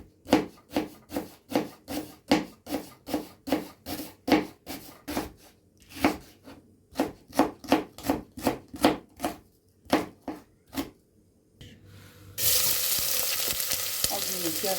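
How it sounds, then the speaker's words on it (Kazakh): Onions are finely chopped with a fast, even run of sharp knife strikes on a board, then land in hot oil for cooking soup, where they burst into a loud, continuous sizzle. "Piyazımızı жақсылап қуырып аламыз."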